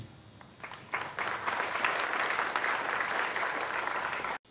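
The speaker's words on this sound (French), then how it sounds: "Et vous prions d'applaudir pour lui" Crowd of villagers in Kombokabo applauding at a welcome ceremony for Lieutenant General Luboya, sustained dense clapping that swells after a quiet start and holds steady before cutting off abruptly.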